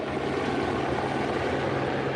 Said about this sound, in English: The Pima County Sheriff's Department helicopter flies just above the palm trees of Nancy Guthrie's Tucson home.